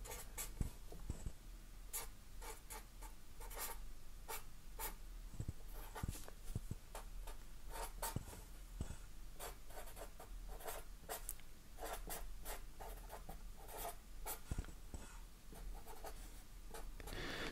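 An equation written out by hand, a steady close scratching of pen or chalk in quick strokes and short pauses, with no talking.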